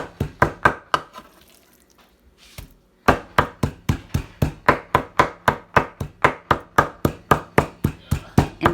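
A knife chops rapidly and rhythmically on a cutting board, working a meatless chorizo mix. A steady run of sharp, close knocks breaks off for a brief pause, then resumes at an even, fast pace.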